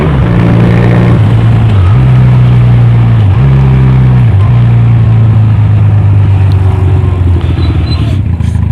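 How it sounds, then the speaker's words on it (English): Honda Rebel 250 motorcycle engine droning loud and close as it downshifts without rev matching, the pitch dropping in abrupt steps at each gear change, then steadying under rushing wind. "this is what it looks, sounds, and feels like when you don't rev match"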